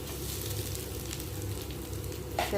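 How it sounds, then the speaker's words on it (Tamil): Mustard seeds splutter in hot oil in a pan while cooking erissery, a constant faint crackling sizzle with a slightly louder burst of popping at the end. "எண்ணெய் சூடானதும் லைட்டாக நம்ம கடுகு சேர்த்திக்கலாம். கடுகு நல்லா பொரிய ஆரம்பித்ததும்"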